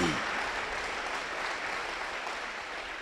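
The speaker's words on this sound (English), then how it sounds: "give a nice big round of applause again for our individual state champion winners." A crowd applauds steadily for about three seconds, a dense wash of clapping that stays fairly even throughout.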